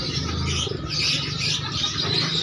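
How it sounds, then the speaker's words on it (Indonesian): Lahore pigeons at a busy bird market coo and chirp among many other birds, a dense, continuous chorus of calls close by with no speech. "Ini teman-teman merpati Lahore."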